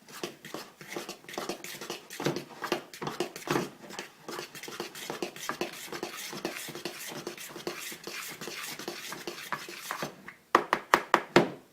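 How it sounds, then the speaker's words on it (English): Flour and baking powder being mixed by hand for bannock, a continuous run of rhythmic rubbing, patting and scraping strokes close up, ending in several sharper knocks, with no talking. "Mix it all up."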